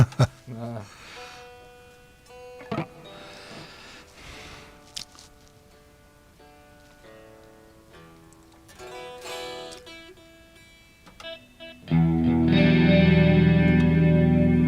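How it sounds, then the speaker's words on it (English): Single electric guitar notes are plucked one at a time with pauses between them during tuning, then a loud, distorted chord rings out at the end. "Oh, I have to tune my guitar"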